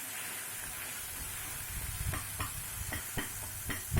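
Brinjal, tomato and tamarind sauté in a pan for brinjal chutney, with a steady low sizzle and a series of sharp spoon scrapes and taps that grow more frequent toward the end; no one speaks.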